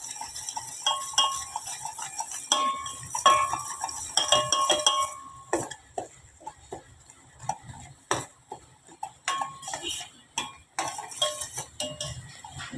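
Grated coconut stirred into jaggery syrup in a pan, a spoon repeatedly scraping and clinking against the metal in quick irregular taps, close and clear with no talking.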